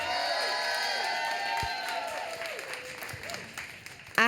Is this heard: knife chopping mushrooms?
no